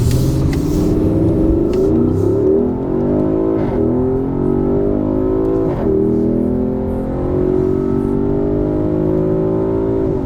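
Porsche Cayenne Turbo GT engine in Sport Plus mode, accelerating hard with a loud, steady roar that climbs in pitch through several gear changes, with brief dips between shifts over a continuous ten seconds.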